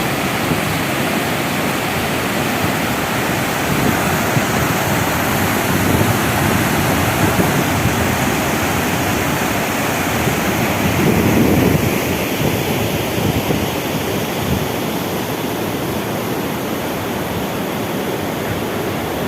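The Sugabandh waterfall rushes in a dense, continuous roar of falling water, loud and close, with some wind buffeting the microphone and no voices.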